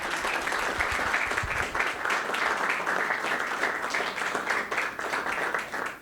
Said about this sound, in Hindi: तो प्लीज़ बहुत बहुत जितनी तालियां बजा सकते हैं